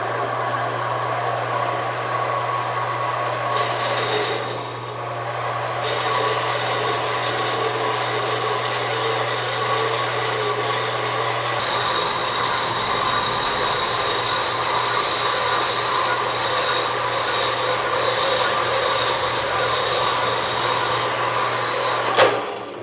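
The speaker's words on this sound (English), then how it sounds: "Saw is not liking this material." A saw cuts metal stock to length in a workshop, a continuous loud mechanical drone with a steady low hum and grinding noise that runs unbroken and strains against the tough material.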